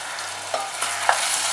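Tomatoes, salt and Chettinad spices are mixed in a frying pan, making a steady close hiss with a few soft spoon scrapes and taps, without any voices.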